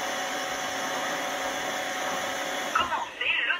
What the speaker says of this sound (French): Ici, on peut s'apercevoir que la brosse va s'auto-nettoyer directement grâce au socle de rechargement.